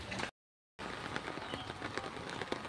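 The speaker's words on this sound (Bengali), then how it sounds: "বৃষ্টি বাড়তেছে" Rain falls steadily in Alipurduar, a dense even hiss of drops that cuts out for a moment near the start and then continues, with no one speaking.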